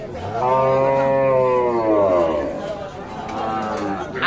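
Cattle and young calves low loudly at a weekly rural livestock market in Dinajpur, one long drawn-out moo up close followed by a shorter one, with crowd chatter and voices all around.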